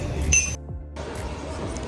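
Glasses clink together in a toast aboard the MSC Seascape cruise ship, a bright ringing chime near the start followed by a brief quiet gap and then busy background chatter.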